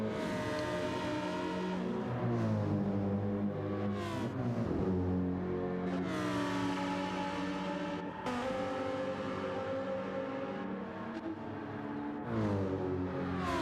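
A race car in a racing video game on the Monza circuit screams down the straight, its engine note rising steadily through the gears with brief dips at each shift, loud and continuous throughout.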